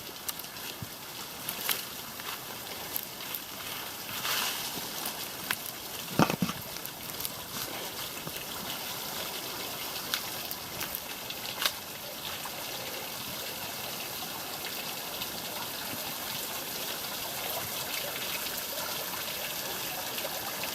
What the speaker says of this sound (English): Here are tiny little rock waterfalls that no one gets to see.